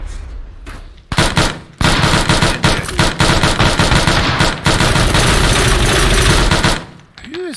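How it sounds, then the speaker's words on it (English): Buckshot gunfire during a breaching exercise in Arma 3. A few opening shots lead into dense, loud, continuous volleys of overlapping blasts that cut off abruptly near the end. "Who is firing the buckshot?"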